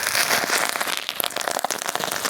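Crinkly plastic packaging peeled and crumpled off an Eva Unit-01 model kit box, a continuous close crackling rustle with quick sharp crinkles throughout, no voices.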